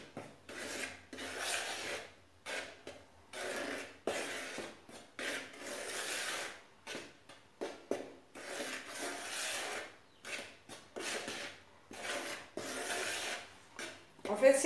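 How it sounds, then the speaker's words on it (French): Dry ingredients for gazelle horn pastries coated in icing sugar are stirred together in a bowl, giving a close, gritty scraping that comes in repeated short bursts with brief pauses between strokes. "Donc je vais d'abord mélanger les ingrédients secs."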